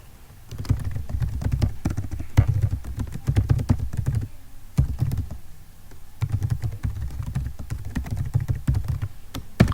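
Rapid typing on a computer keyboard, steady clustered key taps in bursts with brief pauses, close and clear with no talking.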